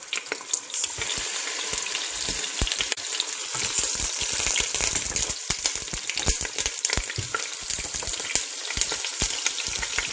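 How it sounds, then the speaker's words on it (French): Meat sizzles and fries in a pan for Senegalese dakhine, a dense, crackling hiss with frequent sharp pops and spatters, steady and close throughout with no voices. "on va commencer par faire, donc revenir la viande"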